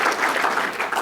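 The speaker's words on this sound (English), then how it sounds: "Let's give her a round of applause." Sustained applause from a seated audience at a City Club luncheon event, dense and even clapping throughout, fairly loud and close with no pauses.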